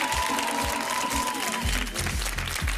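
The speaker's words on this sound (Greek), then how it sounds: "Ένα δυνατό χειροκρότημα για τον Δημήτρη." Loud studio audience applause on a Greek ANT1 television talk show, steady clapping that swells in its second half, with a voice speaking over the crowd.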